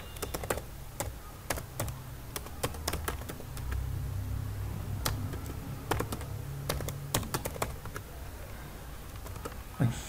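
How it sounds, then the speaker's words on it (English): Quick, irregular key clicks on a computer keyboard as an email address is typed in, soft and close against a faint low background hum, with no talking. "just type here"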